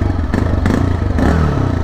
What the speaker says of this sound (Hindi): और जो एग्जॉस्ट नोट है वो आप सुन सकते हैं